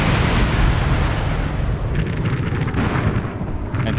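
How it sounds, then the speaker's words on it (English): Rocket strikes and cluster bomb explosions during close air support in the Armored Brigade 2 war game, a dense, continuous roar of rumbling blasts with crackling bursts layered on top, loud throughout. "rockets. And they both dropped some clusters as well"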